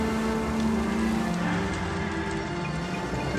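Constant rainfall in the video game L.A. Noire hisses evenly throughout, with a faint low tone humming underneath.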